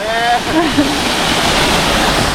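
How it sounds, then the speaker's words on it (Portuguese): A hot freshwater waterfall pours in a steady broadband rush, close and fairly loud, with a brief voice and whistle-like tones at the start. "Mas é uma cachoeira de água doce quente, né?"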